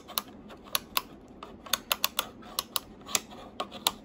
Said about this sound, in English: Has very clicky buttons, audible.